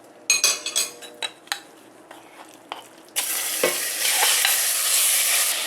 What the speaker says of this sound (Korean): 중불에 놓고 볶아주세요